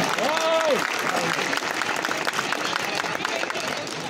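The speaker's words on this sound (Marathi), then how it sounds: "तरी परत सर्वांनी टाळ्यांचा गजर करून आमच्या विद्यार्थिनीचा उत्साह" Audience applause at a cultural dance performance, dense sustained clapping filling the room, loud and steady, with a brief voice briefly over it at the start.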